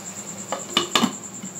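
A lid settles onto a pan of lentil fritters cooking on the stove: a couple of quick metallic clinks close by, then a faint rattle, over a soft background hum.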